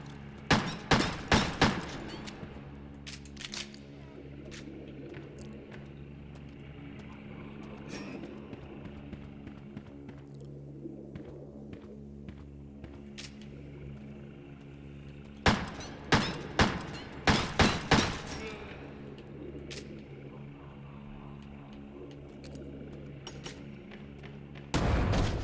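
Explosions and booming blasts in the video game Crow Country come in clustered bursts of sharp thuds, early and again midway, over a steady low rumble and background game sound.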